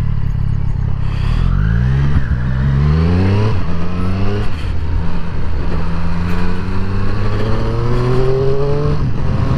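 A Triumph Triple RS motorcycle engine in sport mode accelerating hard through the gears on narrow country roads, loud and close. Repeated rising revs are cut by quick shifts.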